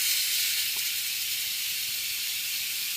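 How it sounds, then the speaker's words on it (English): A Nutrichef 8-in-1 pressure cooker vents its steam pressure in one continuous loud, close hiss that holds steady for the whole stretch with no voices over it. "I'm going to release the pressure here."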